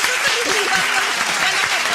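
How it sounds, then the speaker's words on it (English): Applause from a studio group at a breakfast radio show, a dense even patter of hand clapping held for about two seconds, close and fairly loud. "let us just clap hands for you right there."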